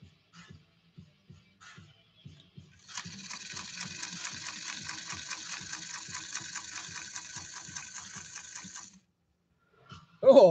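A 1954 Singer 99K Mighty Mite sewing machine stitches through leather in a steady rapid run of about six seconds, after a few slow single hand-turned stitches, then stops; a louder thump follows at the very end.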